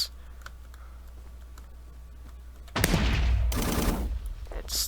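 Gunfire from the Sworn Guns plugin in Minecraft: after a quiet hum, a dense burst of rapid shots starts near three seconds and keeps going, loud and close, with a brief second burst near the end.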